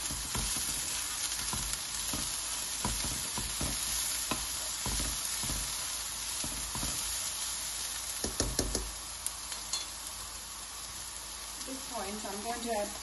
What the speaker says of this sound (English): I'm going to give them a really good mix